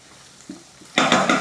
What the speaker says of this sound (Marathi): आता हे खोबरं आणि कोथिंबीरीचं वाटण यामध्ये घालूयात.